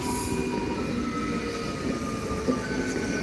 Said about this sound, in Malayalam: ട്രെയിൻ ഒരു വഴിക്ക് പോകുന്നുണ്ട്